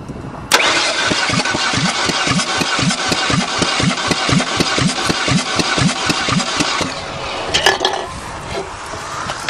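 A 20-ton-dozer-crushed Topaz cranking over in a long run of rapid, even starter strokes, then firing once with a short burst, loud and close with no talk.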